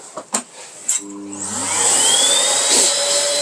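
A rotary engraver fitted with a Distar Butterfly 45 mm disc spins up after a few clicks and cuts into tile, settling into a steady high whine that grows louder and holds to the end.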